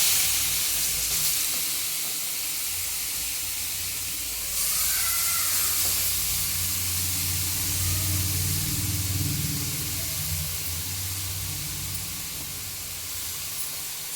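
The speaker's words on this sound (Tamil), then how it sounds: "இப்போ இந்த நெய்யிலேயே நம்ம இந்த பீட்ரூட்டை சேர்த்துக்க போகிறோம்" Grated beetroot fries in ghee in a pan, a steady loud sizzle and hiss running throughout with slight swells as it is stirred, no voices.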